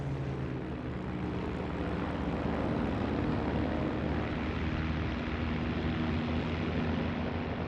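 A Supermarine Spitfire propeller fighter drones steadily, its engine a continuous mid-loud roar with a low throbbing hum and no other sounds over it.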